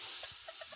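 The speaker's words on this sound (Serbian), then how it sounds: "Evo ovdje već imamo koka." Hens make a few short, soft clucks that are faint and close together, heard only in a brief moment with no talking.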